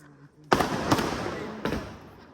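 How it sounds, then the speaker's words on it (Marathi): A bunch of firecrackers bursts nearby at a wedding: a loud crack, another right after, then a third a moment later, each trailing into crackling noise. "बँच फटाके उडतायत"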